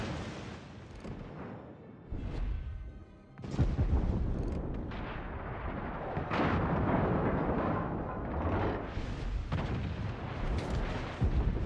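Naval guns in a video game fire in heavy repeated booms, loud and close, with rolling blasts and rumbling echoes overlapping one another.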